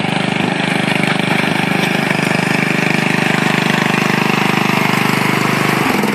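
A small lawn mower engine running hard at close range, a loud, steady, buzzing drone with a rapid pulsing rhythm that holds constant and shifts abruptly just before the end.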